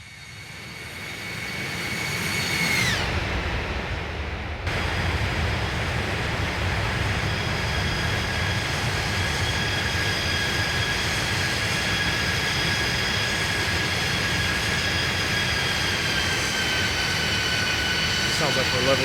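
Simulated MD-90 airliner with IAE jet engines flying by, a loud sustained jet roar with high whining tones that swells, shifts abruptly, then holds steady and broad throughout.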